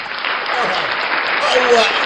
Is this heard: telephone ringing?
no